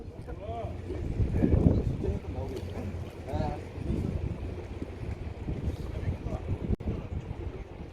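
Strong wind blows steadily by the sea near a fish farm's stone seawall, a continuous loud rush buffeting the microphone, with someone talking over it.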